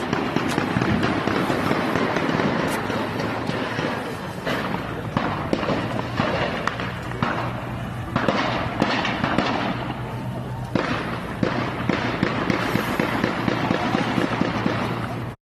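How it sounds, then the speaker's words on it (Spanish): Rapid volleys of sharp cracking gunshots ring out during a street clash in a residential area, dense irregular bursts echoing for the full stretch with barely a pause between them. "la gran cantidad de disparos que se estaban efectuando"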